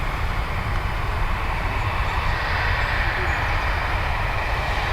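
An Aer Lingus jet takes off from runway 10 right at Dublin Airport, a steady broad engine roar with deep rumble holding at constant loudness throughout.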